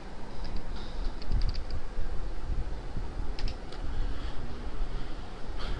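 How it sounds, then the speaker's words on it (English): Keys clatter on a computer keyboard while someone types a line of text, with rapid irregular clicks running steadily for several seconds over a faint background hiss. "Let me start typing Marquee."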